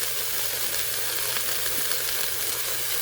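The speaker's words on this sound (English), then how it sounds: "when you lightly saute the spices together, oh my God, it starts to smell so good" Curry powder and black pepper sautéing in a pan, a steady close sizzle and crackle of frying that runs evenly throughout with no talk.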